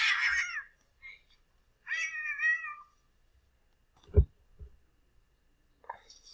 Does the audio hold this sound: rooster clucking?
no